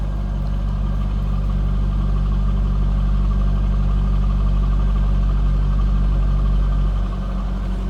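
A 2003 Chevrolet Corvette 50th Anniversary Coupe idles from behind near the exhaust, a loud, steady, deep rumble with no change in pace for the whole stretch.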